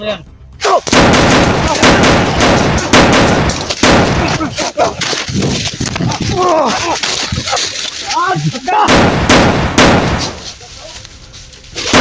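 Loud bursts of video game gunfire, repeated rapid shots with splashy impacts, mixed with voices talking over the action.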